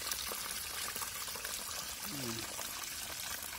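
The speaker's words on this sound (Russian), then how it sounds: "Вот, очень красиво журчит вода." A garden pond fountain trickles and splashes continuously, a soft, steady wash of running water throughout with no clear pauses.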